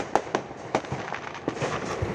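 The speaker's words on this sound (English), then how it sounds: "everyone in this neighborhood is lighting off fireworks." Neighborhood fireworks and firecrackers going off on New Year's Eve, a quick irregular series of sharp pops and cracks heard from a distance outdoors, with no talking.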